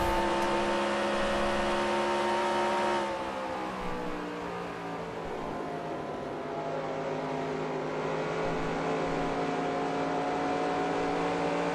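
Race car engine in the NASCAR Racing 2003 video game, a steady high droning whine with a pitch shift near the three-second mark, then a sustained loud tone with no voices.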